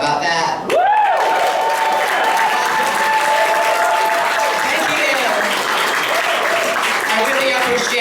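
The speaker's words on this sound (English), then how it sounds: "I really appreciate the applause" Audience applause at a stand-up comedy show in Toronto, a dense, loud wash of clapping that runs throughout, with crowd voices mixed in and no clear break.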